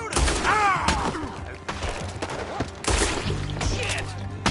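Gunfire in the video game Red Dead Redemption 2, loud bursts of shots and thuds close by, mixed with shouting voices.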